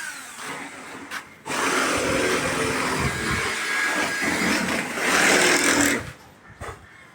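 A power drill bores holes through the roof of a Mitsubishi Adventure for a bolt-on roof rail. A loud, steady grinding whine runs for several seconds, rising near the end before cutting off, with quieter handling noise around it.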